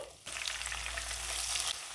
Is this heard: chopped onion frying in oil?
yes